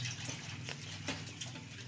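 Water pours quietly into a cooking pot being filled to boil macaroni, a faint, steady splashing stream with no voices.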